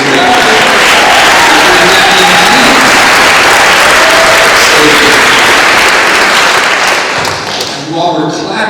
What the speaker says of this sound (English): And while we're clapping